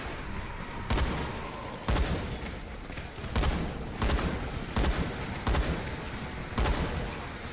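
A firecracker in the video game Dying Light pops off in a steady run of sharp, loud bangs, roughly one each second, over a constant rumbling background.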